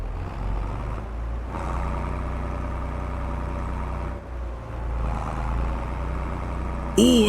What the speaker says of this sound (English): it's a really nice sounding tractor